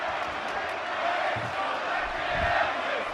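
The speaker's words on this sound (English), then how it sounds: "chants from our crowd" Crowd chanting in the WWE 2K17 wrestling video game, a steady broadband roar of many voices holding a continuous, loud presence throughout with slight swells.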